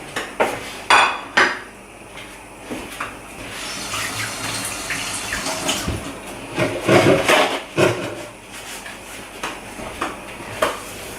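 Kitchen clatter of a plate and dishes being handled while preparing to fry cheese doughnut rings, with sharp clinks and knocks, some running-water hiss, and intermittent cutlery sounds at close range.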